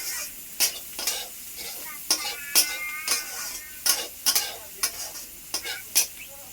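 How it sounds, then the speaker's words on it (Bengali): Chopped onions and green chillies fry in a pan under repeated spoon stirring, with about a dozen sharp scraping strokes over a soft sizzle, close and clear with no talking. "সবকিছু ভালোভাবে একবারে ভেজে নেব।"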